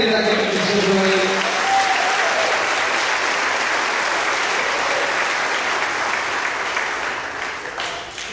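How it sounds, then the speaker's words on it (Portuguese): A church congregation at a Saturday leadership service breaks into full, steady applause lasting around eight seconds, fading slightly at the end, with a voice briefly audible at the start. "Quem recebe, aplauda ele daquele que diz."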